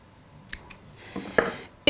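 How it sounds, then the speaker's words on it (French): Scissors snipping yarn flush while making a pompom: a few small, close cuts spread over two seconds, the sharpest at the end, with no talking. "Parfait, on peut venir couper à ras."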